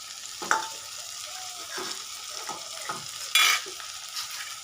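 Chopped tomato frying with onion, black cumin and green chilli, stirred in a pan with a steady soft sizzle and several scraping stirs, one sharper clatter near the end, close and moderately quiet with no speech.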